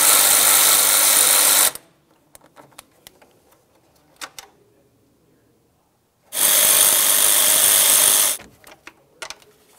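A power tool spins out the 8mm mounting bolts on the fan shroud of a 2009–2019 Ford Flex, two loud close bursts of whirring separated by quiet clicks and handling noises.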